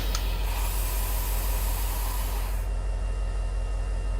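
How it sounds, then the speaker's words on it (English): Steady, loud air brake hiss from an SD70ACU locomotive in the Trainz video game, a continuous broadband rush that cuts off abruptly partway through. "has custom air brake sounds too from the sound of it."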